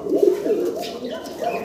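Pigeons coo in soft, rolling bursts at a pigeon market, close and steady with little else around them.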